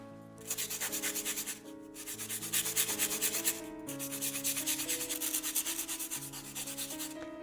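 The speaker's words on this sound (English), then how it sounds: "that way I can sharpen it from one side, and then when it gets softer and smoother, I can just refine it with the smoother sandpaper" A sandpaper paddle rubs back and forth in quick, even strokes in short rhythmic bursts, close and fairly loud, with brief pauses between runs and no voices.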